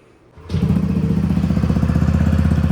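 A Yamaha Aerox 155 V3 scooter engine with an aftermarket exhaust silencer starts abruptly, then settles into a steady, loud, putt-putting idle close by, in an enclosed space.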